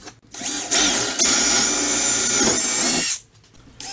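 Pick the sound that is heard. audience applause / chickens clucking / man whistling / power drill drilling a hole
power drill drilling a hole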